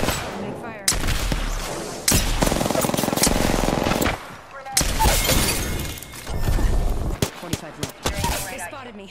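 Enemy gunfire in Apex Legends crackles in loud, rapid bursts with sharp shattering impacts, broken by brief pauses, while a player talks over the fire.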